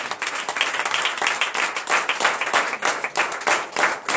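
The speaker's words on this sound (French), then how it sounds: "je vous invite encore à donner une vive acclamation à l'Éternel" Church congregation at a morning prayer service in Benin claps energetically, loud rhythmic bursts of applause pulsing in waves with some cheering mixed in.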